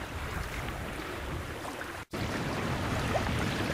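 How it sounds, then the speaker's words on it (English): A sailboat running close and parallel to a beach, with a steady broad wash of waves, water and wind noise throughout, loud and constant with one brief dropout. "Just sailing kind of parallel along the beach here at 9 Mile Beach"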